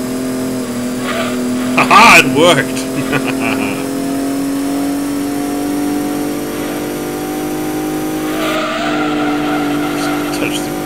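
A rally car engine in Gran Turismo 2 holds a steady drone with a sharp rising rev burst early on, then settles back to a sustained hum; a voice exclaims briefly over it.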